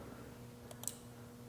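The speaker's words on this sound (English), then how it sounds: "So that's what the clicking sound you're hearing." A SainSmart USB 8-channel relay board snaps its relay with two faint, quick clicks in close succession against a quiet background hum.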